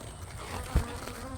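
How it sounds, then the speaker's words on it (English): Bees buzz around a subtropical vegetable garden in Queensland on a sunny late-spring day after rain. The hum is soft and continuous, with one brief close pass. "Bees have come out again."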